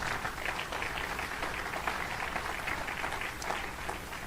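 A church congregation applauds in a sustained, even burst of many hands clapping together, moderately distant, with no talking over it.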